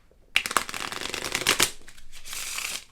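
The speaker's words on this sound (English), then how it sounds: "I'm going to shuffle the deck." A deck of cards is riffle-shuffled and bridged by hand, a crisp fluttering burst followed by a second softer riffle, close and clear with no talking.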